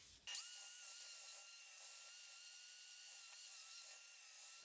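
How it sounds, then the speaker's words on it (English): A filled wooden ball is sanded with finer 120-grit sandpaper. It makes a faint, steady rasping hiss that runs on without pause and without talk. "So I'm going to sand it again, just with finer sandpaper."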